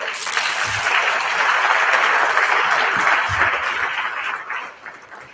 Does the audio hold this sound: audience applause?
yes